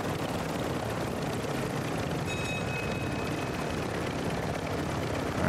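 A helicopter in the Call of Duty DMZ video game drones steadily throughout, a dense, continuous rotor and engine roar at constant loudness with a faint high whine passing midway.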